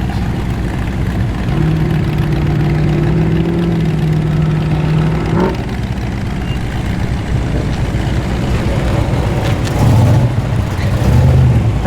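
A tuned muscle car arriving at an evening car meet idles with a deep, loud rumble. Its revs rise and hold for a few seconds, then drop back to a lumpy idle with a few blips.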